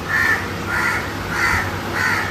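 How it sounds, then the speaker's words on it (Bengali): A crow caws repeatedly and close by, four harsh calls spaced evenly over a couple of seconds with no talk around them. "কাকটা ডেকেই চলেছে।"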